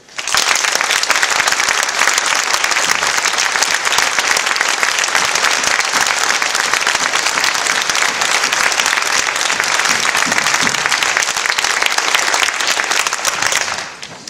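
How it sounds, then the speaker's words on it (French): Sustained, dense applause from a seated crowd at a municipal council installation meeting, loud and even for about fourteen seconds before tapering off at the end. "nous l'applaudissions."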